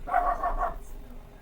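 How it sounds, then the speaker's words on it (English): A dog barks at another dog in a short burst of a few quick, moderately faint barks in the first half-second, followed by quieter background. "I can't stop a dog from barking to another dog"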